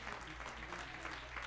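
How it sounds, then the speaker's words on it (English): Faint, distant clapping from a church congregation during Sunday worship, honoring the children, low and muffled under a steady hum. "Give a round of applause for our children"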